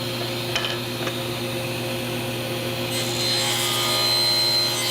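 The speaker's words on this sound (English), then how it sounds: "I'm going to get ends cut first, then come back and cut the final look." A saw guided by a miter gauge and set block trims the ends of picture frame pieces: a steady, loud motor drone and whine, with the pitch and texture shifting partway through as the blade works the wood.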